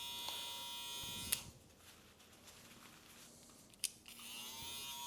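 Electric hair clippers hum quietly and continuously while cutting hair during a men's low taper fade, with a couple of sharp clicks and the buzz dipping briefly in the middle.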